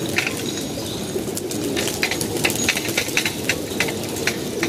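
A flock of pigeons coming down to land, with soft cooing and repeated bursts of wing flapping close by, rhythmic and busy throughout, without any talk.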